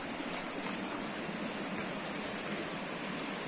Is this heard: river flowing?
yes